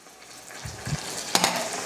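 Vegetable broth is poured into a pot for carrot soup, giving a short, close burst of liquid splashing and sizzling that builds and ends with a brief clink.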